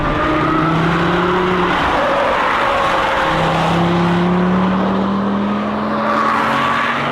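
An Audi RS3 is driven hard with its tires squealing, loud drawn-out screeches and engine roar sweeping past at close range, with no talk.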